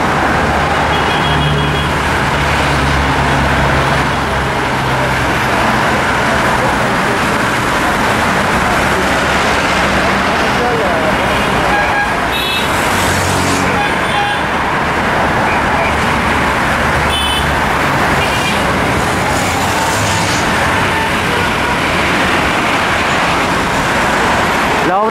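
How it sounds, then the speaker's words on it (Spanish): Dense night-time car traffic streams along Javier Prado avenue, a loud continuous roadway roar with passing engines and occasional brief tonal tones, heard from a footbridge with no one speaking. "Todos estos autos se dirigen hacia el oeste."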